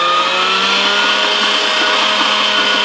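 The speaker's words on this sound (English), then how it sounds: "we're going to get started with some fresh ground chuck, so I'm going to grind this up" A meat grinder churns steadily through fresh ground chuck, a loud, continuous mechanical whir that holds at one level without a break.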